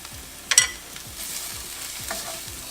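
Ground spices (coriander, smoked paprika, cumin, chipotle, black pepper, mushroom powder) stirred in a hot pan, with a soft steady sizzle, a couple of brief louder scrapes of the spoon, and no talking.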